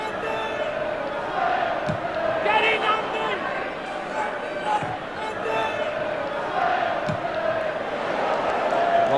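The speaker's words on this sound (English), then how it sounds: "The crowd imploring the referee to blow the final whistle" Football crowd of just under 19,000 at a 1981 West Brom versus Norwich City match, a continuous roar of chanting and shouting rising and falling throughout, with a commentator talking over it.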